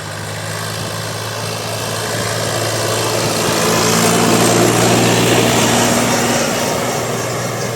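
A DTZ 354U tractor engine drones steadily at work discing a garden plot, a continuous low hum that swells slightly louder midway and stays constant throughout, with no voices.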